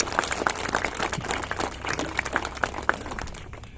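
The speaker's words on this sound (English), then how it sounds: "So I think you all deserve a great round of applause." Scattered, moderate applause from a small audience at a traditional Irish music heritage event, distinct individual claps over a light background.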